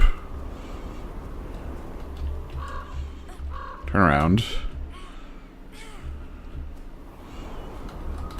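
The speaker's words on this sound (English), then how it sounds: "Oh, and a bird showed up" A bird caws in the video game Never Alone, one loud raspy crow-like call ringing out midway over low ambient wind, with a person speaking briefly nearby.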